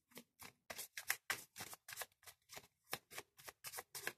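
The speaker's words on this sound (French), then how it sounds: "Je brasse les cartes." Rider-Waite tarot cards being shuffled by hand, giving a quick run of crisp riffling bursts roughly every quarter second, close and soft, with no voice.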